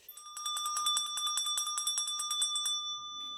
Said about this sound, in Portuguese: quando esse sininho toca